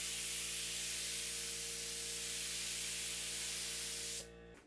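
A paint sprayer hisses continuously and loudly with a steady motor hum underneath while refinishing a 1970s drum table, cutting off abruptly near the end.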